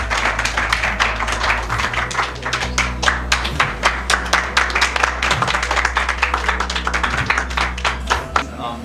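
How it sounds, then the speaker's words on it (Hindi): An audience at a public gathering in Hisar claps loudly and steadily, many hands beating a fast uneven rhythm throughout, with a low hum underneath. "प्लीज़ सर आके एक बार सर के लिए ज़ोरदार तालियां करें यार"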